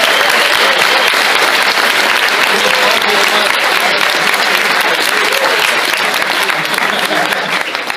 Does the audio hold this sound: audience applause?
yes